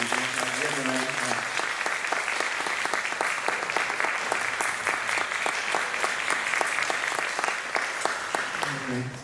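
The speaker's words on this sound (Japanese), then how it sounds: "もう一度拍手で全体の披露をお願いします。" Sustained audience applause fills a concert hall, a dense even patter of many hands clapping steadily for the full stretch, loud and close, with faint voices briefly audible at the start and end.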